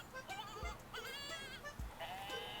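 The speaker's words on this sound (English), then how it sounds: "The very first screaming goat reference in media I could find was on May 9th, 2015 from episode 25 of Sonic Boom." A goat's scream from the cartoon Sonic Boom rings out in wavering bleats over a busy background of other sound, repeating several times within a few seconds.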